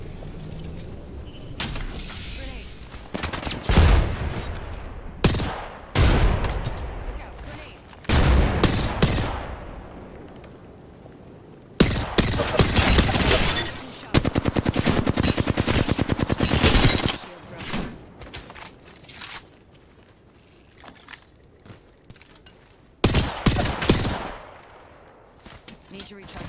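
Apex Legends gunfire cracks out in loud, rapid automatic bursts separated by short pauses, with sustained volleys and a few heavier single shots mixed with game effects.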